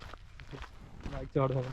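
Footsteps on a hard surface while people talk nearby, the steps soft and steady beneath the conversation.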